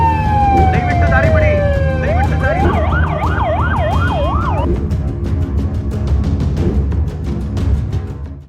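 An ambulance siren wails and yelps through busy road traffic, loud and close, its rising and falling tone running for several seconds over a steady rumble of engines before fading out.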